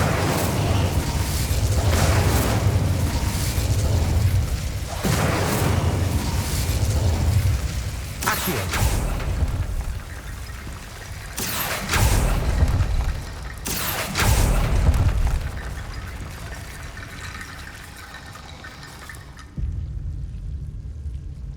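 Fire spell cast in Hogwarts Legacy, heard as a series of booming, rumbling bursts with crackling, spread over a dense game soundscape; several strong blasts land roughly every few seconds and fade out near the end.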